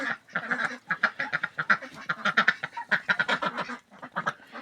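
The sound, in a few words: ducks quacking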